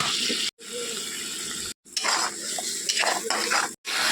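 Ground spice paste with salt and turmeric sizzles and scrapes in a pan as a spoon stirs it, in bursts broken by two brief silent gaps, close and fairly loud.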